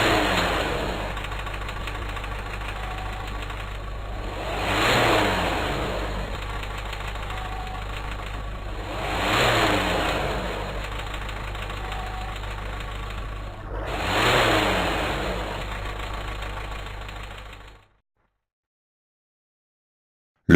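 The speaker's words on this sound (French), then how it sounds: "Le contrôle de l'opacité nécessite plusieurs cycles d'accélération pied à fond." A diesel engine is pushed to full throttle through several accelerations during an exhaust opacity test, each loud rev surging and falling back to a steady idle before the engine cuts off near the end.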